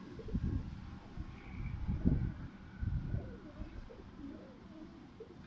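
Teddy pigeons coo softly and repeatedly in low, rolling calls, faint and close against light wind and background noise.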